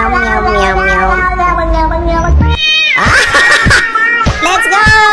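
A string of meows, pitched and melodic, repeats loudly and up close over a beat-driven TikTok track, with a voice imitating the cat's cries amid music and chatter.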